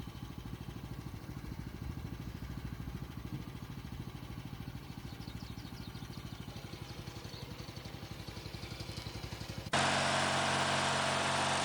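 A small tractor engine hilling potatoes chugs steadily with a rapid low putter, then a sudden loud rushing noise takes over for the final couple of seconds.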